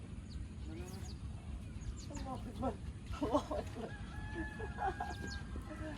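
A rooster crows amid other clucking chickens, fairly quiet, with people talking faintly in the background.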